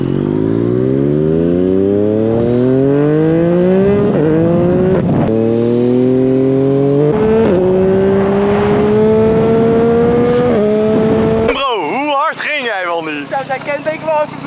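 A loud motorbike engine drones close by during a ride with a passenger on the back, its pitch climbing gear after gear, then breaking into rough wind buffeting near the end.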